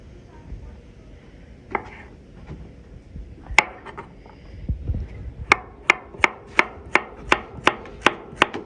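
Knife chopping Yukon Gold potatoes into rounds on a board, a few scattered cuts giving way to a quick even run of about ten crisp, close chops.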